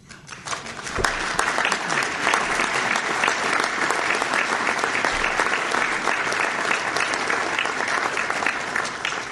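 Loud, sustained applause from a business audience at a mayor's Board of Trade address in Ajax-Pickering, a dense roar of clapping lasting about nine seconds with no speech over it.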